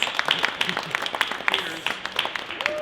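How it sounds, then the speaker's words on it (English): An event audience claps briefly, a quick patter of scattered hand claps that is fairly close and mixed with cheering or voices. "Give yourselves a round of applause."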